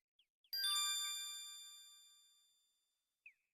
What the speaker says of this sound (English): The magic arrow completely shatters the shield.